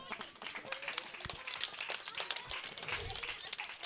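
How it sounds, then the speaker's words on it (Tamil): Parents in the audience at a school Vacation Bible School festival clap in a scattered, uneven burst that stays fairly faint and distant throughout. "ஒரு நல்ல ஒரு கைத்தட்டல் கொடுத்துடலாமா?"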